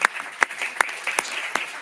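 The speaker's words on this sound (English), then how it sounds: "A round of applause." Applause at a Federal Communications Commission open meeting comes as sharp, evenly spaced claps in a steady rhythm. It sounds like a small group clapping in a meeting room.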